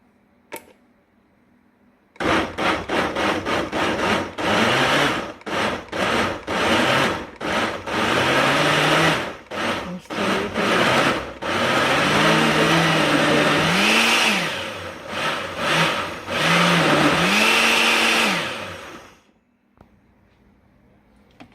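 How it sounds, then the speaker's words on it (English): A blender purees mango with condensed milk for ice cream, starting abruptly with choppy pulses, then running in a loud sustained whir whose pitch shifts as the load changes, and stopping cleanly. "I'm blending the mango with the condensed milk"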